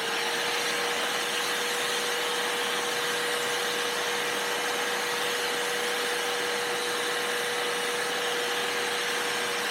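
A vacuum cleaner running steadily with its suction pulled through a K&N air filter, a loud continuous whooshing roar with a constant motor whine, unbroken and alone without talk.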